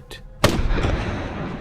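A sniper rifle fires a single loud, sharp shot, preceded by a faint click, with a rumbling echo trailing off afterward.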